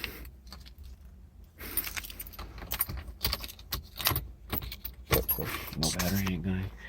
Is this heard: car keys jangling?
yes